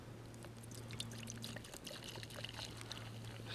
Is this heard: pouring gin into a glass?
yes